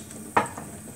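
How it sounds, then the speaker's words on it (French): A large glass of water poured into a hot pot of prune and apricot tajine, heard as one sharp splashing sizzle burst that quickly fades into a low simmering hiss. "Maintenant je vais aller rajouter un grand verre d'eau comme ceci"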